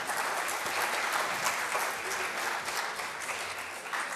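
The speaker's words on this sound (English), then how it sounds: "Give all of them another round of applause." Audience applause at a secondary schools debate final, a steady, dense wash of many hands clapping filling the room for several seconds without pause.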